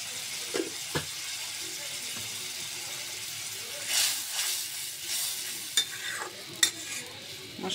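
Spices and chicken skin stirred in a pan for a Bangladeshi layer-chicken skin curry, with a steady soft sizzle of frying and a few scraping stirs and clinks of a spoon against the pan, close by.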